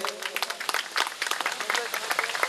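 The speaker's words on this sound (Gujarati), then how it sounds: "આપણે સૌ તાળીઓથી વધાવીએ" Applause from a gathered audience welcoming honoured elders at a felicitation ceremony, a steady, dense patter of many hands clapping throughout, fairly close and continuous.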